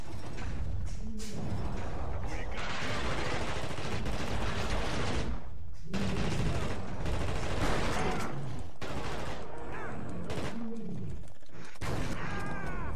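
Repeated bursts of loud gunfire in the video game The Thing, dense rapid shots clustered throughout with brief gaps, alongside growling creature noises.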